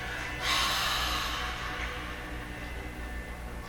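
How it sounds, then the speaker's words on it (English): A harsh, forceful breath out, as if fogging up a window, during a gentle exercise warm-up; one loud close exhale swells then trails off over a few seconds into steady room hiss. "we're going to breathe out as harsh and hard as we can"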